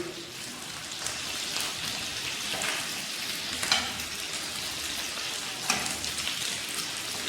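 Balochi-style mutton chops fry in a pan with a steady, even sizzle, joined by a few sharper pops and crackles as the fat spits.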